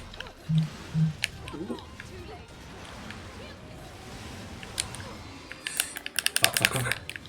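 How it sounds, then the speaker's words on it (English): Computer keyboard keys and a mouse click in quick flurries during a Bayonetta 1 play session. A few soft isolated taps come first, then a dense burst of rapid clicking near the end. "sorry if everybody can hear, like, my flurry of clicking"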